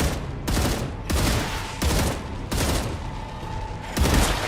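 Sustained machine gun fire in the video game Star Rupture rattles loud and dense in long continuous bursts with brief gaps between them.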